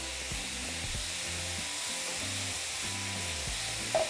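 Carne asada meat, mixed with minced garlic and a little onion, fries in a pan with a steady close sizzle and light crackle that holds evenly from start to finish, broken by a soft clatter near the end.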